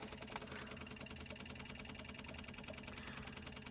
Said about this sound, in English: You can hear the pumps now pressurised it.